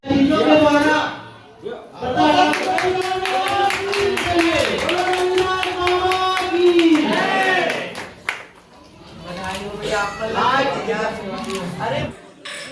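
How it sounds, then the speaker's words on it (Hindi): Guests clap at the inauguration of a new building during a ceremony installing a statue of Sant Guru Ravidas, a dense patter of hands running under a loud voice that speaks or chants continuously over it. "सभी तालियां बजाएं अतिथियों के द्वारा"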